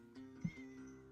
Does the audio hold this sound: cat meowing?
yes